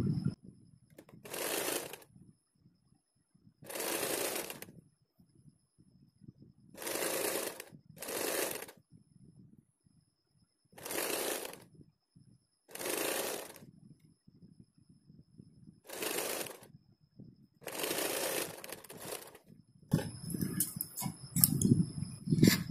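A sewing machine stitches a house coat in several short bursts of whirring, each a second or two long, separated by quiet pauses while the fabric is adjusted; close and moderately loud, with a rustling, clattering stretch at the end.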